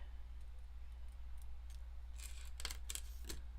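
Scissors snip into cardstock while a card is made, a quick cluster of crisp cuts near the end over a steady low hum, with a few faint earlier snips.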